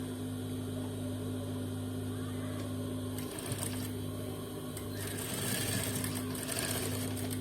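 A sewing machine runs steadily while stitching an Afghani salwar, its motor hum and fast needle rattle continuous and close, with a brief rougher burst partway through.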